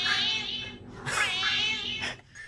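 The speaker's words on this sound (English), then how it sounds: "she thought her cat had a Scouse meow" A pet cat meowing in a drawn-out, rolling, sing-song way, two close, loud calls with a brief squeak between them and no talking over it.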